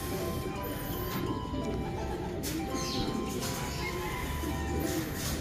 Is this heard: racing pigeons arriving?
yes